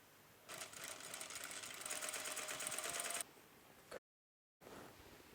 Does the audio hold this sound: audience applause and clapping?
no